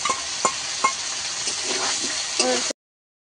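A spice paste of ground cumin, coriander powder and water fries in a pan for a fish curry with taro and potato, making a loud continuous sizzle punctuated by a few sharp stirring taps and scrapes before cutting off abruptly.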